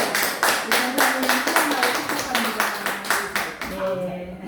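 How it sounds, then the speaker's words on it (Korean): A church congregation claps together in a steady rhythmic burst for a few seconds, the clapping fairly close and full before fading out, with a voice speaking over the end. "박수 한번 우리 격려하겠습니다"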